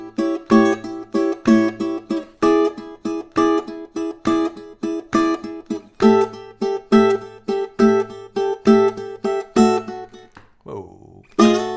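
Fingerstyle blues guitar played in a triplet rhythm: steady plucked chords and bass notes repeat in an even loping pulse, close and clear, before a brief sliding bend near the end.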